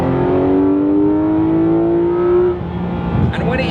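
A Porsche 911 GT3 RS engine revs hard in third gear, climbing steadily in pitch to a shrieking whine near 7,000 RPM, then drops off as the revs fall, close and loud.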